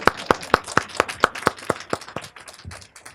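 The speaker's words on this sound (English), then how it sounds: "Clap that up." A small group claps at a book event, about a dozen sharp, close hand claps in a quick, slightly uneven rhythm that thin out and fade toward the end.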